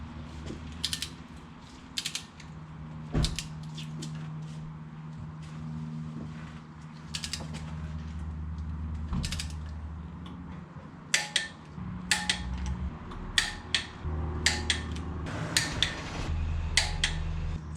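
Ratcheting clicks of a torque wrench drawing down cylinder head bolts on a Subaru engine during a rebuild, with repeated bursts of close, sharp clicks over a steady background hum, growing more frequent toward the end.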